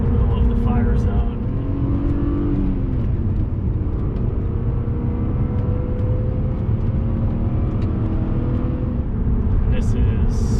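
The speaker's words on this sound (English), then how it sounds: "You can hear that aftermarket exhaust" BMW E36 M3 with an aftermarket exhaust on a mountain road, a deep continuous engine drone that holds steady and then swells as the car pulls harder, heard from inside the car with someone talking over it.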